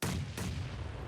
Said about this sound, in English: Nades going out